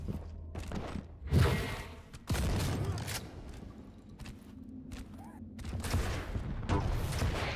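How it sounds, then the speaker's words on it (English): Rocket launcher fire in a Quake duel: a chunky boom cuts in among scattered game gunfire, footsteps and mechanical clatter, with loud bursts recurring over a busy, continuous background. "Oh, that's a chunky rocket."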